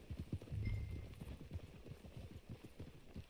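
Horse hooves clip-clop in a steady walking rhythm in the video game Red Dead Redemption 2, close and fairly quiet, with a brief low rumble near the start.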